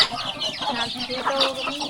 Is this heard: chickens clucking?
yes